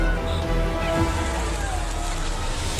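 Rushing floodwater in Indonesia sweeping through a flooded residential area where houses have been carried away, heard as a steady, loud, broadband roar with constant turbulent churning throughout.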